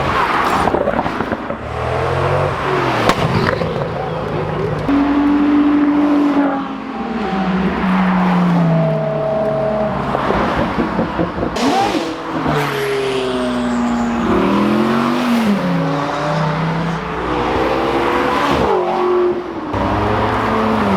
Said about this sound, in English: Apparently all the hypercars are about to leave. They might accelerate, they might not.